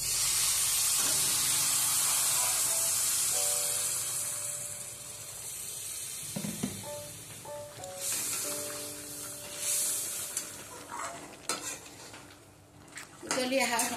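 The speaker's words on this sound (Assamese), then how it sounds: "এতিয়া মই ইয়াতে গৰম পানী ঢালি দিছোঁ।" A loud steady hiss and sizzle from a hot pan of fried mutton curry fades gradually as hot water goes in, with clinks and soft knocks near the end.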